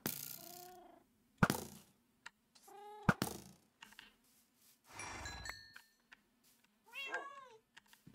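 Cats in the Minecraft video game meow in several short separate calls, fairly close and clear, with quiet gaps and soft game thumps between them.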